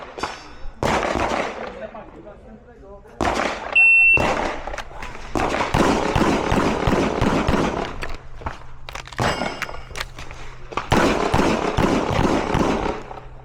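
Sharp pistol shots crack in rapid bursts at a shooting competition, loud and close, with short pauses and an electronic timer beep between strings of fire.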